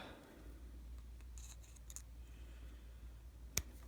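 Electrical pincers cut a wire on a BSA Fury SS (E35SS) motorcycle, a single sharp snip near the end after a few faint clicks against a quiet workshop hum.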